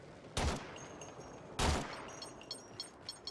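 Two sharp gunshot bursts from a Warframe video game, spaced about a second apart, loud and close, with faint high electronic game tones and small clicks trailing after.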